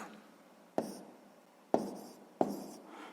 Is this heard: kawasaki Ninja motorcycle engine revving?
no